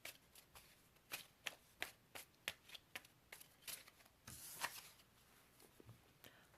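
Tarot cards shuffled by hand in a quiet room, a run of crisp riffling flutters repeating about every half second, with one longer, denser shuffle toward the end.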